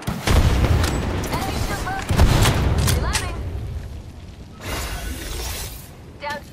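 An arc star grenade bursting in Apex Legends, a loud crackling electric shatter with booming impacts that trails off into scattered gunfire and softer crackles, with a player's voice heard over it.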